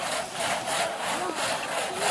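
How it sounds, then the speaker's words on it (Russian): Wood is being sawn by hand in a steady back-and-forth rhythm of rasping strokes, close by and fairly loud, with no talk over it. "Вот остальные пилят."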